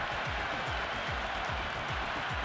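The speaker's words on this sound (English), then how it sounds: "There's a buzz, a real buzz coming from the stands." Cricket video game crowd in the stands giving a steady, dense roar of cheering and applause, loud and continuous throughout with no gaps.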